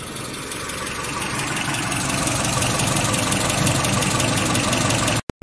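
A 1995 Holden Rodeo with a 2.6 engine idles steadily up close, a continuous even mechanical hum and clatter that cuts out abruptly at the very end.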